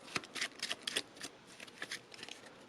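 Playing cards from the Familiar game deck being shuffled by hand, a quiet series of crisp riffling bursts and flicks in irregular rhythm, close and alone.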